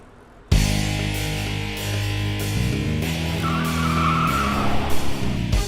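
A car turns sharply with tires skidding, a loud sustained screech over engine noise that starts abruptly and carries on for several seconds with shifting pitch.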